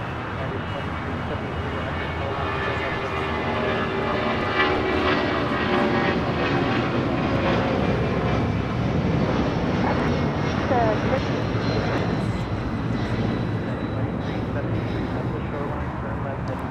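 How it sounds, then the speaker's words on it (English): A Delta Airlines Boeing 757-200 takes off at LAX, its jet engines making a loud, sustained roar that builds and holds steadily throughout, with voices talking faintly underneath. "This is Delta Airlines Flight 392 taking off to Washington National on a 757-200."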